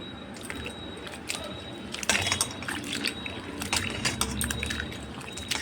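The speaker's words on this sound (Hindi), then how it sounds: "हम अपने सारे करेलों को साफ़ पानी में अच्छी तरीके से धो के अच्छी तरीके से निचोड़ लेते हैं।" Bitter gourds washed and squeezed by hand in a bowl of clean water, with close splashing, sloshing and wet squelching bursts over a steady watery clatter, no talk.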